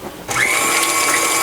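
After a short pause, a blender starts up and whirs steadily, loud and close, as it mixes crust-less quiche filling.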